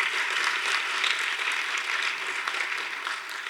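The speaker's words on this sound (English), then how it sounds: "Let's give Dr. Inglehart one more round of applause." An audience applauds Dr. Inglehart at an equity and social change award ceremony, a dense, steady wash of many hands clapping at a fairly loud, even level throughout.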